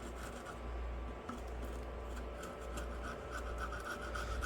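Leftover adhesive and gunk are scraped off the frame of a Samsung Galaxy A12 phone. It makes a quiet, steady, close-up rasping rub that runs unbroken for several seconds.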